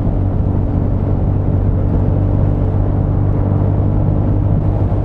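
Steady, droning engine of a vehicle being ridden along a bayou road in a video game, a constant low rumble and whir at even loudness throughout with no voices.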